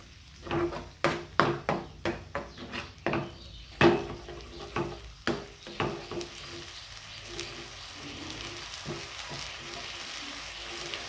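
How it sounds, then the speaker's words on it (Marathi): Spice masala roasting in a pan for soybean fry, a spoon or spatula scraping and knocking against the pan in a quick run of sharp strokes, then a softer ongoing sizzle as stirring slows. "हा मसाला आपल्याला छान असा भाजून घ्यायचा आहे"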